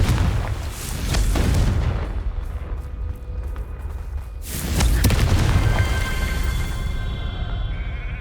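Two booming blasts from the Confringo spell in the Hogwarts Legacy video game, one about a second in and a second, louder one near the middle, each followed by rumbling debris and lingering game ambience.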